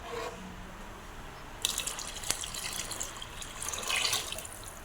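Water poured into a pot of simmering fish curry, a steady splashing trickle with a sharp clink partway through, close and moderately loud with no talk.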